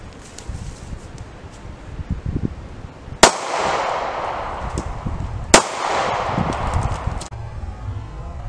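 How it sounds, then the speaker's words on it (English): Two sharp outdoor gunshots fired at a can of red paint, each loud crack followed by a long rolling echo over steady background rustle. "Now we're shooting a can of red."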